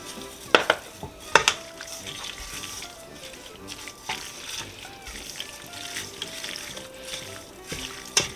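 Poppy seeds being stirred into Polish noodles in a pan, with soft scraping and a few sharp clinks of a utensil against the pan, set against a quiet kitchen background.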